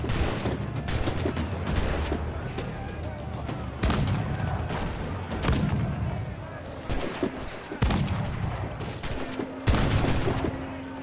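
Swivel cannon fire during a ship battle in Assassin's Creed Black Flag, a run of loud booming shots at irregular intervals over dense battle noise, with voices talking throughout.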